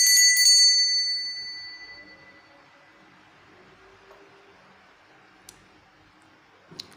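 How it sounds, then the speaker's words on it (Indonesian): A bell rings once at the start of a playing-card fortune reading, its bright metallic tone decaying over about two seconds into near silence, followed by a few faint clicks. "lonceng berbunyi"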